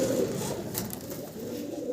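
Bombay pigeon chicks coo softly at close range, a low, continuous murmuring with no talk.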